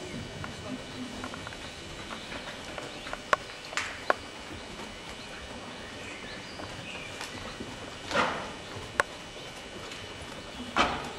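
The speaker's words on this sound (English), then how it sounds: "if we can see these 3 horses working forward in trot" Three dressage horses trot in an arena, their hooves giving a soft, steady clip-clop with a few sharper hoof strikes. A voice murmurs faintly in the background.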